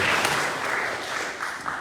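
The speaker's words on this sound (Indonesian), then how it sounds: "Beri tepuk tangan dulu yang baik buat Tuhan" Congregation applauding during a Sunday church service, a steady wash of clapping that fills the short moment and tapers slightly toward the end.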